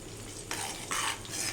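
Homemade hair oil is stirred in a pan over the heat. Two or three bright scraping strokes rise over a faint, steady sizzle, close by and without voices.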